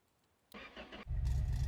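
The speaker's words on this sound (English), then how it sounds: "this thing should actually fire up if we put some gas in it now" A car engine in the Car Mechanic Simulator game cranks briefly, then catches and settles into a loud, steady idle after a short quiet start.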